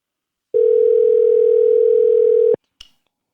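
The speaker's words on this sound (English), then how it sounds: "See if I get my boy John on the phone" A telephone handset plays a single steady dial tone for about two seconds, loud and close, then cuts off and is followed by a brief click.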